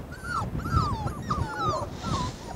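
Puppies of a large dog breed, part of a litter of eight, whimper and yip in high, wavering cries that rise and fall close by, several overlapping through the whole stretch over faint low rustling.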